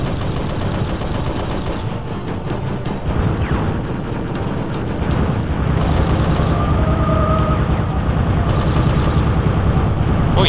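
Assault rifle fire in the video game Unification War, a dense, sustained stream of rapid shots that runs loud and unbroken from start to finish.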